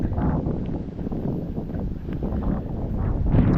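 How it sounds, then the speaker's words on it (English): Strong wind gusting outdoors at night in Maine during a walk, buffeting the microphone with a low, steady roar that swells near the end; no one speaks. "It's windy."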